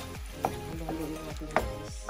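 Thai green curry cooks in a pan after creamy coconut milk goes in, giving a steady bubbling sizzle with stirring and two sharp clinks of a utensil against the pan.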